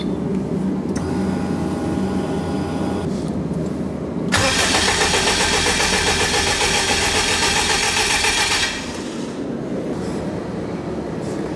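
A forged, turbocharged Honda K20 engine in a buggy starts for the first time, cranking briefly before catching into a loud, rough, lumpy idle that runs for several seconds and then drops back to a lower rumble.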